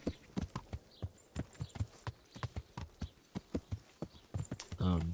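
A horse trots along in Kingdom Come: Deliverance, rhythmic clip-clop hoofbeats at a steady pace, close and clear, ending with a short burst of louder noise.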